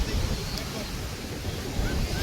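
Surf on a seashore at night, with a steady roar of breaking waves and wind buffeting the microphone throughout, no distinct voices.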